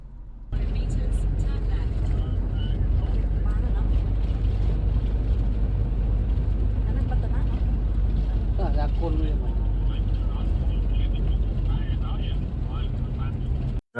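Car carrying a group of passengers out of the city in Cambodia, with steady low engine and road rumble throughout, voices chatting inside the cabin over it.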